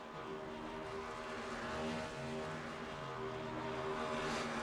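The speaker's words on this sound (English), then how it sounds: "While these guys are finishing up their burnouts here" NASCAR Next Gen Cup cars in a racing video game finish their burnouts, a sustained droning engine whine with shifting pitch from several cars, steady and moderately loud with no voices.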